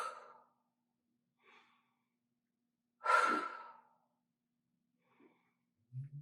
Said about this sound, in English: as I reach, I exhale